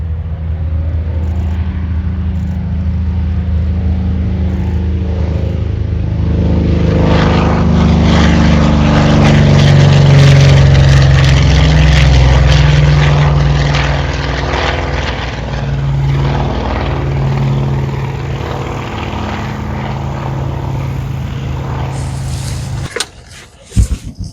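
A-26 propeller aircraft sitting on the runway with its engines running, a steady loud drone that swells in the middle and holds, then cuts off abruptly near the end.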